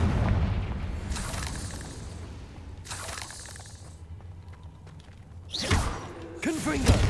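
Confringo spell explosions go off during combat in the video game Hogwarts Legacy: a series of loud booming blasts with crackling bursts, spaced a couple of seconds apart over steady battle noise.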